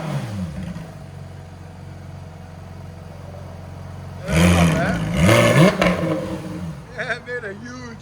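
A 2019 Porsche 911 GT3 RS with a muffler delete and its exhaust valves closed idles with a low, steady burble, then snaps into two sharp, loud revs before settling, with voices speaking nearby.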